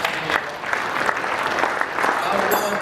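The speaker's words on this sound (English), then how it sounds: "give yourselves a round of applause." A conference audience applauds, steady dense clapping from a large crowd filling the whole moment, with a voice talking over it.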